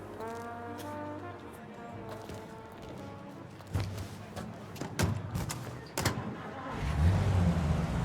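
A car engine hums steadily as the car cruises in Mafia: Definitive Edition. The drone stays in the background at moderate loudness under a conversation between driver and passenger, and a few knocks and a rising engine surge come near the end.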